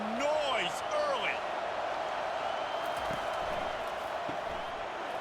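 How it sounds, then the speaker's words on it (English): Stadium crowd noise in College Football 25 during a Kentucky at LSU game, a steady distant roar from the stands under a few short whoops and tones at the start. "This crowd bringing the energy and noise early."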